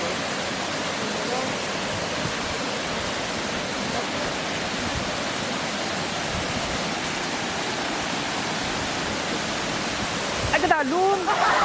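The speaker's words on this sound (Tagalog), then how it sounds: "Malapad, kadamo sang drops ng tubig, kag nagalapta, daw kurtina." At the Lag-ason waterfall, a wide curtain of water pours down in a constant, dense rush, loud and close throughout, with a brief voice surfacing near the end.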